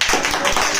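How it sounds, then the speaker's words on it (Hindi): Students in a classroom during an 11th-grade physics lesson clap for a classmate, a brief burst of dense, loud, close applause. "इसके लिए ताली बजा दो एक बार।"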